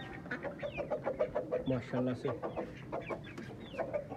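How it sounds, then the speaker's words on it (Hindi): Desi hens and aseel chickens cluck in a steady, rhythmic chorus on a rooftop, fairly close, while someone speaks briefly over them. "ये देखें हमारी मुर्गियां कैसे एंजॉय कर रही हैं छत पर इतने प्यारे मौसम में।"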